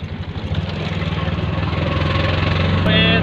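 A tractor's diesel engine chugs steadily nearby with a low, rhythmic throb, growing slightly louder, while voices murmur in the background.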